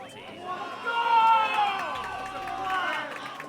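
A crowd at a Mario Kart 64 tournament final cheers and shouts, a dense swell of voices that rises and falls, under the game's music and a commentator talking.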